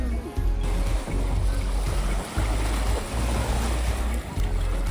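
Lake water laps at the shore of Jack Darling Memorial Park under heavy, gusty wind rumble, producing a continuous broadband wash with brief dips where the wind eases.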